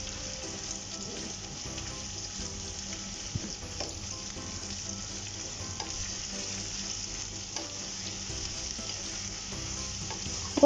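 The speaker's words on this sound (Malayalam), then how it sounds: "3 വലിയുള്ളി സ്ലൈസ് ചെയ്തത് എണ്ണയിലേക്ക് ഇട്ട് കൊടുത്തിട്ടുണ്ട്. ഇനി ഇത് നമുക്ക് നന്നായിട്ടൊന്ന് വഴറ്റിയെടുക്കാം" Three large sliced onions sauté in oil, giving a steady, close sizzle with occasional soft stirring scrapes throughout, no voices.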